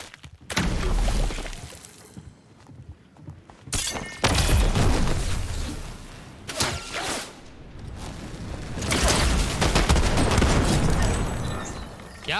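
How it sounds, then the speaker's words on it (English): Gunfire in Fortnite sounds as loud cracking bursts with shattering, whooshing tails, several separate volleys spread across a busy, noisy stretch with no talk. "Someone's sniping, bro."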